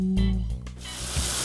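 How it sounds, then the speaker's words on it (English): Drive-through car wash water spraying onto a car, a loud broadband hiss that swells and shifts as the jets pass over the body, steady and close with no talk. "You will hear a loud spraying sound of the water hitting our car."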